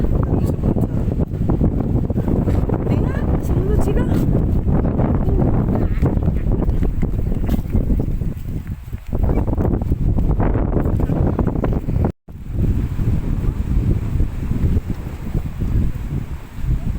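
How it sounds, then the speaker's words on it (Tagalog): Strong wind at the shore of Laguna de Bay buffets the microphone in loud, rough gusts, with a brief lull near the end, while a few words are spoken. "Mahangin eh"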